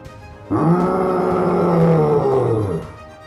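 A deep, loud beast roar bursts in and holds for over two seconds, rumbling and tonal before fading out.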